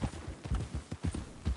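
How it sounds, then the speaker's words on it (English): Horse hooves clip-clopping in the video game Red Dead Redemption 2, a quick steady rhythm of close, distinct hoofbeats throughout. "Whoa! Can't you control that damn horse?"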